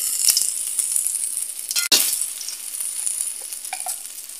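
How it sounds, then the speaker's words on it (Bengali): Whole cumin seeds fry in hot oil as a tempering for moong dal, with a steady close sizzle and crackle, one sharp clink of a utensil partway through, and no voices. "অল্প করে ফোড়ন দেওয়া হচ্ছে, গোটা জিরে ভালো করে ভেজে নেব।"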